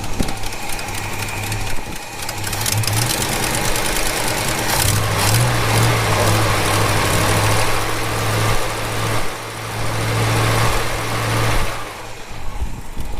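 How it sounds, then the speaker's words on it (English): A Holden HK car engine idles steadily with a rough, droning exhaust rumble from a faulty exhaust, close and loud, holding a constant low tone throughout with slight shifts in pitch. "God, that exhaust sounds terrible."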